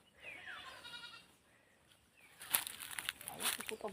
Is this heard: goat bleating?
yes